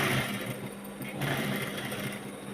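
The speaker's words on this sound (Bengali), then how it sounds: "এবার আর একটা সেলাই দিয়ে দিচ্ছি" An electric sewing machine stitches fabric in a short, continuous run, its motor whirring with a fast mechanical rattle at close range and no talking.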